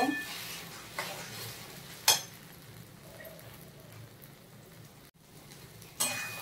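A spoon stirs mashed bottle gourd peel in a pan: a quiet, soft scraping bed broken by a few sharp clinks of utensil against metal, spaced a few seconds apart.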